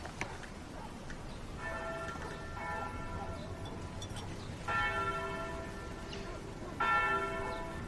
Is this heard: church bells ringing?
yes